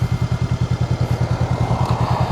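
Motorcycle engine running close by with a steady, rapid low thumping pulse, as a new rider drops straight down into first gear; no talking.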